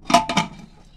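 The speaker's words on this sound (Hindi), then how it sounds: "और इसको ढक्कन लगा देंगे" A lid goes onto a pressure cooker in a home kitchen while a bean curry is cooked, giving two quick, close metallic clinks followed by a faint clatter that dies away.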